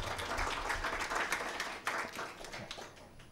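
An audience at a university panel discussion on innovation gives steady applause for a young entrepreneur. The clapping is dense and fairly close, sustained for a few seconds, with no talk over it.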